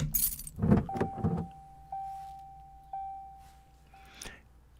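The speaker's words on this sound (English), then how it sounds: "Sound of keys, rubbing their metal surfaces against her hand." Car keys jangle against a hand in a video game car scene, a brief metallic rattle near the start, followed by a sustained electronic chime tone pulsing a few times and a faint click at the end.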